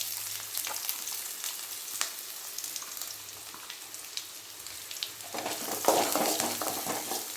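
Chopped big onions fry in a pan for veg biryani, a soft steady sizzle at first that swells louder and crackles more sharply near the end, with no talking.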